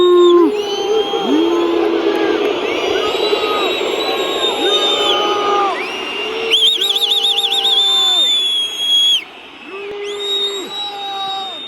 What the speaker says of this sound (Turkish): Şimdi ıslık ıslık.